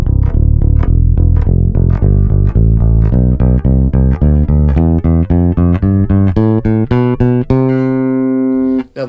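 Epiphone Toby Deluxe V electric bass on the neck pickup with bass and treble turned up, a loud run of plucked notes climbing steadily in pitch, played alone and ending on a ringing held note.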